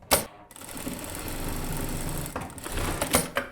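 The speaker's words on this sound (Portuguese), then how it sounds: "Então eu vou pespontar aqui pela parte de cima." A sewing machine topstitches along the upper edge of a Chanel-style jacket lining, running in a steady, close whir for about two seconds between brief starts and stops, with no talking.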